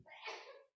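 A single short sneeze bursts out faintly and ends abruptly, with no talking around it.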